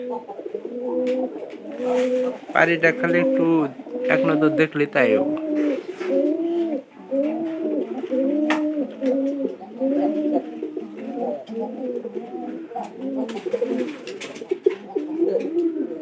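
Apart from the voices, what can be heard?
pigeons cooing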